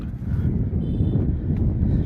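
Steady, loud wind rumble buffeting the microphone at Perumathura beach, Thiruvananthapuram, a continuous low roar with no voices, like gusts blowing across an open shore.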